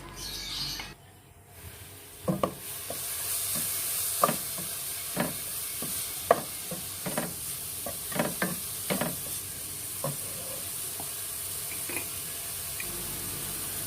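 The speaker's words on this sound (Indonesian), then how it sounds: "Kita masukkan olive oil, lalu masukkan sayurannya, dan kita tumis." Vegetables being sautéed in olive oil in a pan for a bolognese ragù, a soft steady sizzle with repeated sharp clicks and scrapes of a utensil stirring, close and alone without talk.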